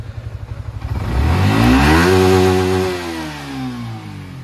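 A Yamaha R15 V3 motorcycle fitted with an MT-15 sprocket and gold brass chain starts at a pulsing idle, then revs hard and climbs in pitch before easing off, loud and close, with no talking.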